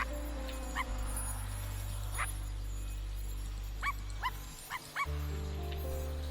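Cartoonish dog barks from the video game I Am Dead, several short yips scattered over a few seconds above a steady low game music drone.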